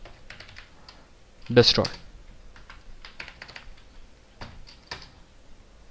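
Keys on a computer keyboard clatter in short bursts while a session is coded, with brief pauses between runs, and a voice speaks over part of the typing.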